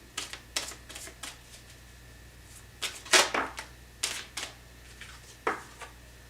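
Tarot cards shuffled and drawn during a reading, a run of light snapping taps and slides, some sharper, scattered irregularly over a low steady hum.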